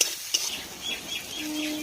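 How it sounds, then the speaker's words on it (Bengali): Onion and tomato sauté with salt in a pan, giving a soft continuous sizzle with a utensil knock near the start and gentle stirring scrapes. "এবার টমেটো আর পেঁয়াজটাকে ভালো করে আগে কষিয়ে নিই"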